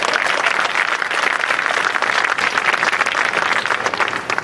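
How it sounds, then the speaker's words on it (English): An audience at a lobby dedication celebration claps steadily and enthusiastically, a dense close wash of applause that holds throughout and dips slightly at the very end. "Now clap your hands and celebrate Steve Nissen."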